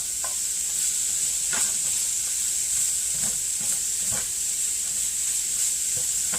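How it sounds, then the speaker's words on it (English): Vegetables simmer in a pan on the stovetop while Cajun and cumin seasoned salmon roasts below, giving a constant soft hiss with faint bubbling and a few light taps throughout. "We just want them to have a nice, slow simmer while the fish is cooking below."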